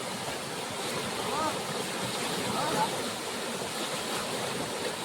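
Fast-flowing current of the Mandakini river rushing steadily at close range, a continuous broadband roar of water with no pauses.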